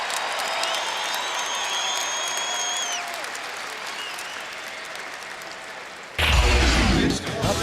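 Crowd noise at Syracuse's basketball dome during a timeout swells and murmurs under a high tonal whistle-like sound, then a louder burst of applause and cheering from the arena crowd breaks in near the end.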